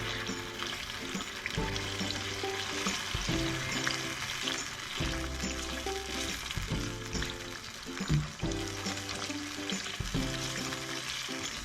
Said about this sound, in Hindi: अब इसके अंदर हम लोग 1/4 दही डालेंगे और उसको भी अच्छी तरह मिक्स कर लेंगे